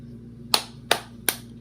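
Three sharp hand claps, evenly spaced about a third of a second apart, ring out close and loud in a quiet bedroom to trigger LED strip lights, with a fourth starting at the very end.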